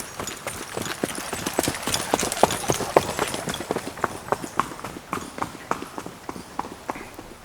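Young horses walking along a trail, their hooves clip-clopping in a steady, uneven rhythm of many footfalls, moderately close, with no talk over them.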